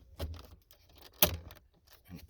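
Plastic door trim piece on an Acura TSX pushed into place, a few soft knocks and one sharp snap of a clip seating near the middle.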